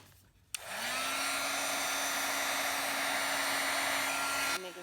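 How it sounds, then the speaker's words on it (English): Heat gun heat-setting embossing powder on a stamped snow globe ornament, switching on with a click and blowing a steady, loud, close whoosh with a faint whine for about four seconds before cutting off. "I'm making sure my heat gun is pretty hot"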